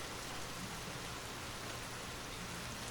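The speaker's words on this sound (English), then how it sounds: "The rain got even stronger." Heavy rain pouring steadily, a dense even hiss of drops on surfaces, loud and continuous with nothing else standing out.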